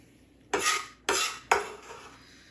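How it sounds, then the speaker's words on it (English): A large mixing bowl handled and set down for a sweet corn salad, three distinct clattering knocks about half a second apart, close and fairly loud with nothing else around them. "Now I'm going to get a large bowl"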